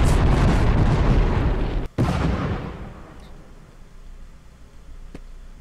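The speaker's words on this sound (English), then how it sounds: "Oh, it's a volcano, so it's shooting me back up." In The Stranger video game, a volcano erupts with a dense, loud roaring blast that throws the player upward. A sharp break cuts through the roar partway, then it fades into a low, rumbling wash.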